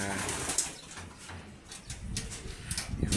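Stock pigeons in a loft coo softly and repeatedly close by, along with scattered rustling and fluttering. Faint voices can be heard in the background.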